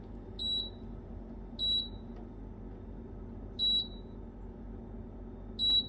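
Four short, high electronic beeps from an oven's control panel sound at steady intervals over a low, constant hum.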